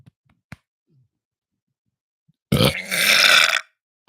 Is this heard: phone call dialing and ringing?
no